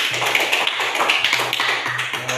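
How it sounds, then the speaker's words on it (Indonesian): Children in a third-grade classroom clap hands together in a quick, steady round of applause, close and moderately loud, with a low hum running underneath. "Tepuk tangan untuk putra dan Jenny dulu"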